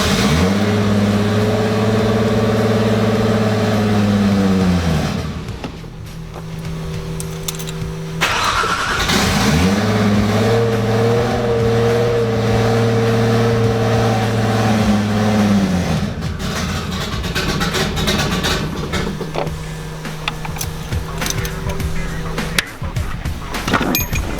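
Nissan 280Z with an RB25 engine in cold weather, starter whirring through long cranking bursts, the engine catching and running briefly before dying, then cranking again, loud and close with no talk.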